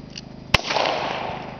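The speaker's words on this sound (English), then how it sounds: "I'm shooting with my Ruger single 6 here. It's a 22 pistol." One sharp crack from a Ruger Single Six .22 revolver shooting clays outdoors, loud and close, trailing off into a drawn-out echo.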